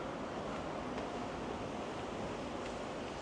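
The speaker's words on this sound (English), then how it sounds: "Whew, it's windy." Wind blows across the open deck of the Disney Treasure cruise ship, a steady, loud, unbroken rush with a low rumble throughout.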